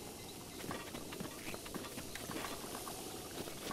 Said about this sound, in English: Ooh, a waterfall.